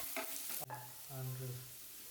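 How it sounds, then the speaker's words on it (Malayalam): Sliced onion frying in a pan and being stirred, a soft steady sizzle with a scrape of the spoon partway through, close and fairly quiet. "ഈ സവാള നന്നായിട്ടൊന്ന് വഴന്ന് കളർക്ക് ചെറുതായിട്ടൊന്ന് മാറി വരുന്നവരെ ഒരു 6-7 മിനിറ്റ് ഇളക്കി കൊടുക്കണം."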